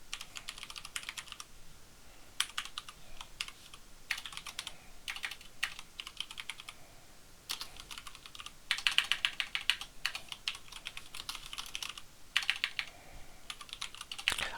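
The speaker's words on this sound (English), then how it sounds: "I hate typing these prompts over and over." Fingers type on a computer keyboard while writing basic Java code, a close, steady patter of clicking keystroke bursts separated by short pauses, with no talking.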